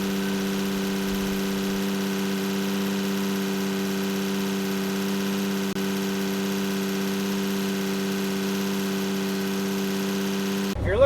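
A 1999 Mack truck engine idles steadily while its air pressure builds, holding a constant low drone with a hum at a fixed pitch for the whole stretch.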